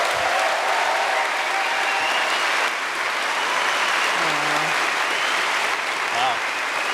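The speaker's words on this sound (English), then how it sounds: "I think we owe one big round of applause to these two fantastic people." Audience at a guest Q&A panel during a fan convention breaks into loud, dense applause that holds steady throughout, with a few faint voices beneath it.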